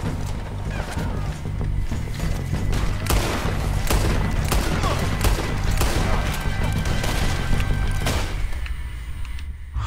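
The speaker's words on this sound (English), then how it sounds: "It's pistol time." Gunfire from the video game Red Dead Redemption 2: a dense, busy run of repeated shots and booms with mechanical clatter over a low rumble, loud and steady for most of the stretch before thinning out at the end.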